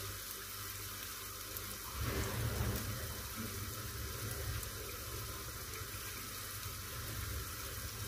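Half a cup of water poured into masala frying with softened tomatoes for a mixed vegetable sabzi, giving a sudden burst of hissing sizzle that eases into a steady, quiet bubbling simmer, with no voices.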